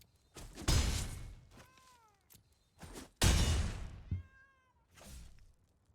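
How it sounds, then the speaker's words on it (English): Cartoon cat meows sound as combat damage lands in the MTG Arena card game, two drawn-out, clear meows each following a sharp loud impact burst, with no talk over them. "Did the cats meow whenever we make combat damage?"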